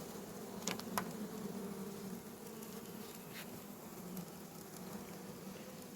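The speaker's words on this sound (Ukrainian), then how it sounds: "Файна бджола." A steady, dense buzzing of many honey bees close by at a hive, continuous throughout with a couple of brief sharp clicks early on.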